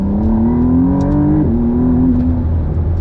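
A McLaren Artura hybrid car's engine revs close by, a loud, sustained drone whose pitch climbs steadily, dips briefly, then holds.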